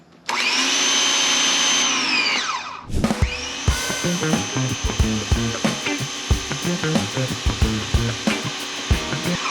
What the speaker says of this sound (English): You press this button whenever you need, and then it will kick on the pump and turn it back off whenever you let go of the handle.